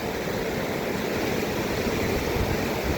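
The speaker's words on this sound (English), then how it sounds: "a nice river. This is Rock Creek," Rock Creek near Red Lodge flowing, a steady broadband rush of river water, moderately loud and constant for a few seconds with no talk.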